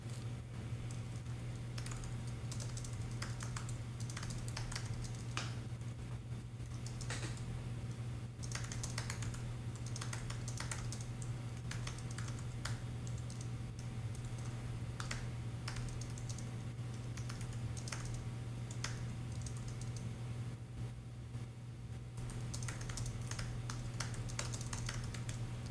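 Steady keyboard typing while a prompt is written, continuous soft key clicks over a low constant hum, with no one talking.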